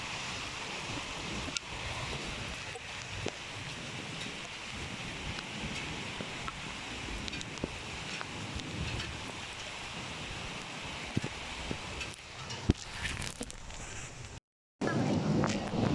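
Heavy nighttime rain in Kuwait roars as a dense, steady hiss mixed with gusty wind noise. Voices talk intermittently over it, and the sound briefly cuts out near the end.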